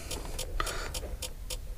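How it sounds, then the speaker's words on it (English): Faulty aftermarket power-folding towing mirror on a 2014 Ford F-150 Lariat makes a steady series of sharp, evenly spaced clicks, about three per second, close and moderately loud over a low background hum. "Yep, we're just getting a clicking noise."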